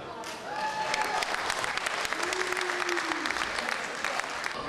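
Sustained applause from an audience at a poetry evening, dense steady clapping filling the room throughout, with a few brief tonal sounds rising over it.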